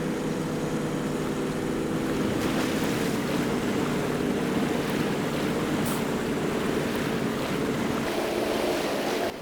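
In the game SnowRunner, a lightly loaded truck fords a river, with a steady broadband rush of flowing water and a low engine drone underneath, continuous and fairly loud, with no talking.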